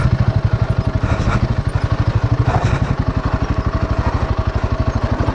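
A motorcycle engine throbs in a fast, steady rhythm as the bike works along a narrow, rough path near a large river, close and loud throughout with no talk.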